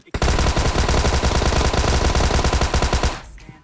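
Rapid automatic gunfire in a battle royale shooter match at a military base, loud, dense bursts for about three seconds before cutting off.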